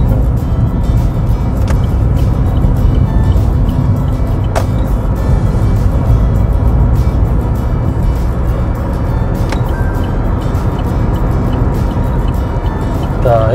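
A manual gasoline Chevrolet Spark accelerates through the gears, its engine droning loud and steady from inside the cabin, with a driving instructor talking over the noise.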